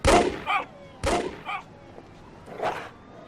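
Gunfire in the Emergency 4 New York City mod video game: three sharp shots spaced about half a second apart, each with a short echo, then a softer fourth report, fairly close and loud.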